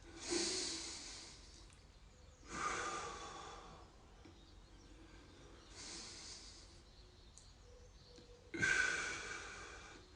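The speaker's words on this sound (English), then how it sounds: "I'm going to take 3 deep breaths" A person takes deep breaths while holding a pec stretch during a home workout, four slow, soft, airy breaths heard close and quiet, evenly spaced with pauses between.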